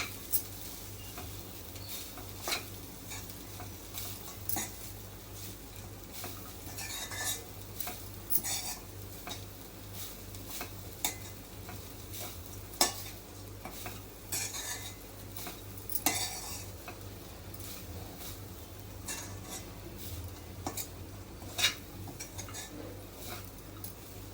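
Grated coconut stirred and roasted in ghee in a pan, with soft intermittent scraping and clinks of a spoon against the pan over a quiet low sizzle, fairly faint and close.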